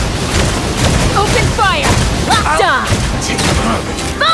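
Gunfire from a Genshin Impact battle sounds as dense, loud booms and rattling shots over a continuous din, with whooshing effects and chirping tones mixed in.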